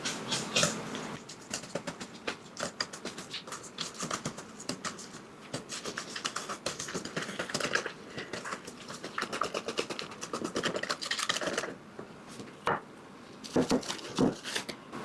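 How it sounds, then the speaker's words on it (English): A whisk clatters steadily against a bowl while lemon bar filling is mixed. Rapid, close tapping and scraping goes on for most of the stretch, then eases off near the end with a few last taps. "Let's whisk that together."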